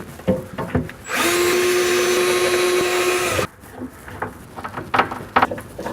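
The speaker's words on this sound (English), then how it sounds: "You can now drill and screw this into place." A power drill whirs loudly for about two seconds driving a screw into a cabinet, a steady high-pitched motor whine, between quieter clicks and handling noises close by.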